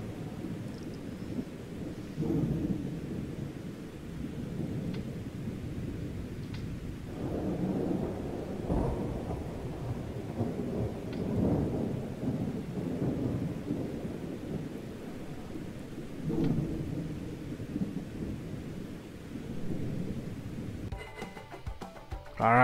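Steady rain with rolling rumbles of thunder in the video game The Karate Kid Street Rumble, a continuous storm wash with deeper swells, no voices.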